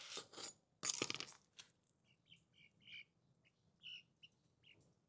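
Chicks being fed wild banana give a scatter of thin, high, faint chirps, preceded by a couple of loud rustling knocks near the start.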